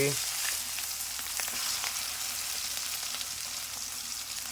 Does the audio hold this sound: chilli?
yes